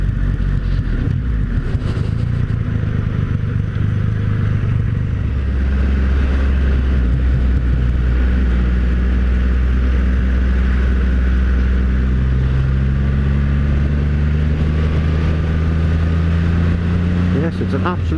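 A Triumph Rocket 3 motorcycle engine hums along steadily in third gear at a low, even pitch, its drone shifting slightly partway through, with a voice talking over it.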